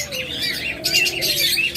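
Crested doves in a pet-bird seller's collection call with soft coos and chirps over a steady background of other caged birds, no voices present.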